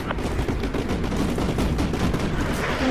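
Continuous booming fire from a video game artillery strike, a steady dense roar of blasts and crackling impacts with no pauses, loud and even throughout.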